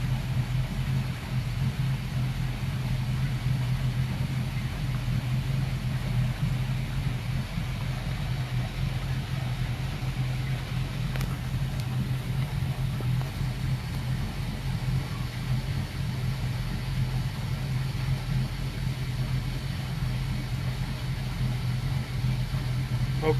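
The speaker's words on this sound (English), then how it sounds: "that one engine is almost warmed up just enough." A boat engine idling steadily as it warms up during a haul out at Cedar Point, a low even drone that stays faint and unchanged for over twenty seconds, with no speech.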